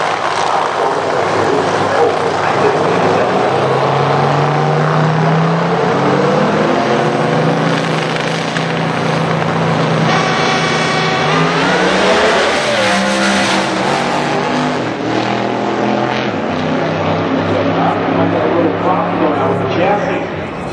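Drag race cars roar down the strip, a loud sustained engine wail with rising and falling pitch sweeps through, heard under continuous commentary.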